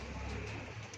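Pigeon cooing softly at a loft, a quiet low murmur steady through the moment, with faint light chirps above it and no talk.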